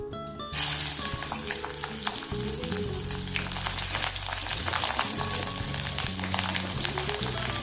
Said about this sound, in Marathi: आपण मिरची तळून घेऊ आता